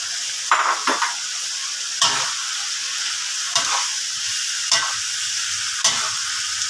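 Crispy fried catfish stir-fries in red curry paste with young chilies and kaffir lime leaves: a loud, continuous sizzle broken by regular spatula scrapes against the pan about every second.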